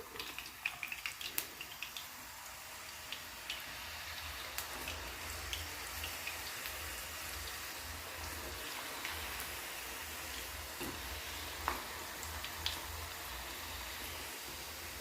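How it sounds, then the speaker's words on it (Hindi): Water running and splashing while potatoes are washed, a steady faint patter with occasional drips and clinks, close and continuous, no voices. "ये जो आलू को हम धोते हैं"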